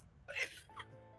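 A single sneeze bursts out at a modest level during a tabletop Magic: The Gathering card game, a sharp breathy outburst followed by a softer trailing catch.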